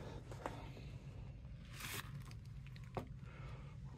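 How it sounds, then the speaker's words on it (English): Zipper on the outside cover of a hard carrying case for a Meco VC2 compressed air duster being drawn open, giving soft, close scraping rasps in short bursts over a quiet background. "Zipper right here on the outside cover."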